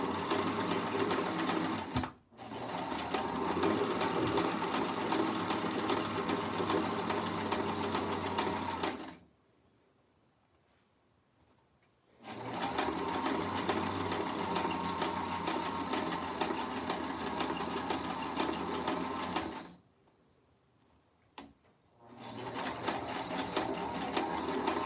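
A sewing machine stitches lingerie close to the fabric edge, a steady loud whir running in two long bursts with short pauses between them.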